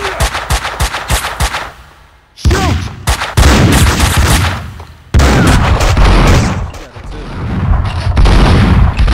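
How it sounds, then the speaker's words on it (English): Gunfire in the video game Max Payne 2: loud, rapid bursts of shots and booming impacts, broken by short pauses, with a dense barrage returning in the second half. "A shot."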